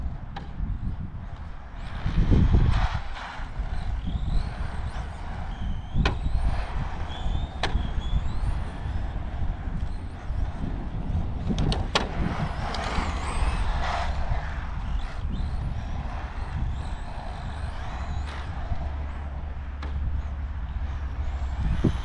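A Tamiya XV01 RC rally car with a 3600kv motor tears around on tarmac, its electric whine and gravelly tyre rumble running continuously, broken by sharp knocks and clatters as it lands jumps.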